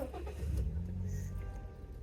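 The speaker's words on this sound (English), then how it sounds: "Car starts, no problems." A tiny home car camper's engine cranks and catches, settling into a low, steady idle close by at moderate volume.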